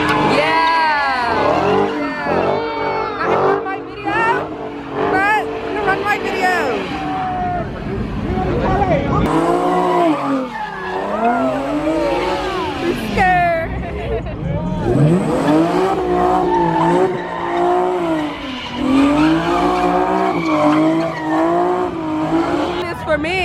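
A car spinning at a large street car meet, with engine revving, repeated tire squeals and skids rising and falling over about twenty seconds, while a crowd shouts and talks throughout.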